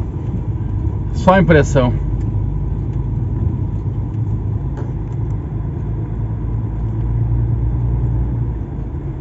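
A vehicle pushes across a dip on a soft dirt road, its engine giving a steady low rumble throughout, with a brief spoken remark near the start.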